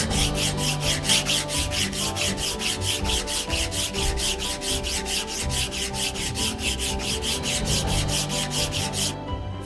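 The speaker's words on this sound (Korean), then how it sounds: "빠진 곳이 없이 구석구석 사포를 합니다." Rapid, rhythmic back-and-forth sanding on a wooden tray, steady scratchy strokes repeating evenly for several seconds, close and fairly loud.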